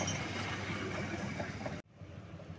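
Malabar and Argo Wilis trains crossing at Cimekar station: a steady loud rumble of rolling rail cars that cuts off abruptly, leaving quieter ambient noise.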